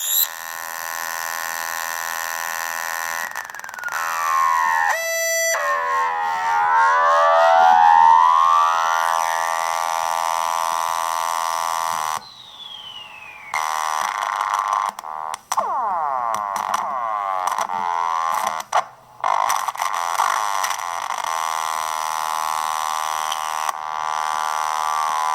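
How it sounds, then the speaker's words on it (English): Circuit-bent Korg Volca Bass synthesizer with a noisy resistor mod, giving loud sustained electronic tones with sweeping, siren-like pitch glides, buzzy harmonics and abrupt cutouts. "That's the noisy resistor I mentioned."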